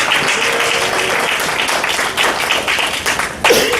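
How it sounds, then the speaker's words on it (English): Dense applause from a comedy club audience fills the whole stretch, steady and fairly loud, with a brief louder burst near the end. "give a round of applause to yourself for supporting local comedy"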